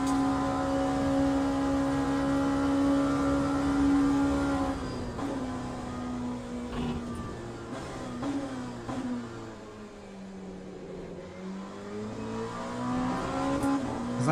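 An LMP2 race car engine in the racing game Le Mans Ultimate holds a high steady drone, then drops and climbs through gear changes and revs, loud and continuous with no voice over it.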